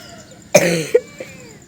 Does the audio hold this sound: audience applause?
no